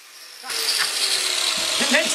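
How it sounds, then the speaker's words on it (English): Angle grinder fitted with a grinding attachment smoothing the cut edges of a metal cylinder, a steady close whine starting abruptly and running without pause. "I've got the grinder attachment on the angle grinder."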